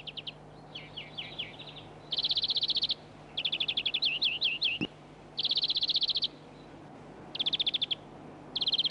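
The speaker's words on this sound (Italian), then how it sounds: "Sono arrivati dall'Africa gli uccelli insettivori." Small insect-eating songbirds sing in oak woodland in spring, bursts of rapid trilled phrases alternating with high buzzy chattering, repeated several times, fairly near over a low steady hum.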